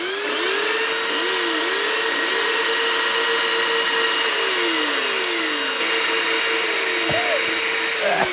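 Power sanding with a cheap handheld sandpaper tool, trimming a corner of a part being fitted to a Suzuki DR650 motorcycle; a loud, steady whine runs throughout with pitch that wavers up and down, close to the mic.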